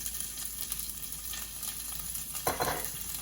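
Urad dal and green chilies sautéing in oil: a faint, steady sizzle throughout, with a short scrape of stirring near the end.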